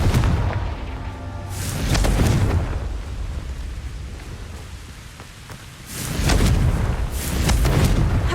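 Confringo spell explosions in the video game Hogwarts Legacy, two loud booming blasts with rumbling tails, spaced several seconds apart and standing alone with no talk.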